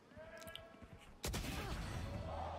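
Valorant gunfire during a Champions 2023 match: after a quiet stretch of game ambience with faint footsteps, a sudden loud burst of rapid shots erupts and continues densely to the end.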